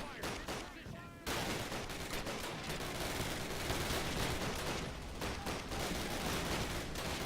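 Anti-aircraft gunfire in the video game Call of Duty, a brief lull then a continuous roar of rapid, heavy shots and explosions filling the scene loudly without pause.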